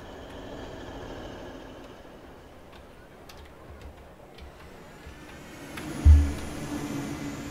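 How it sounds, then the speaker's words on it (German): A German ICE high-speed train pulls away from a station platform in Train Sim World 5, a low steady rumble with a brief louder thump partway through, heard from nearby. "So, der ICE fährt ab."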